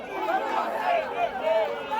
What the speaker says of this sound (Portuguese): A torcida demonstra toda a sua insatisfação com o resultado.